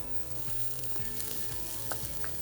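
Black lentils sizzle softly in a hot pan as they are stirred, a steady frying hiss with periodic scraping strokes of a utensil, no talk.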